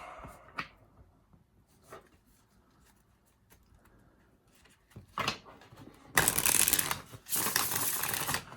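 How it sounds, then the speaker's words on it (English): A laminated Rose Tarot card deck by Nigel Jackson being riffle-shuffled: quiet handling at first, then two loud, dense papery rattling bursts close by near the end. "I haven't shuffled it yet, so let's see how it shuffles."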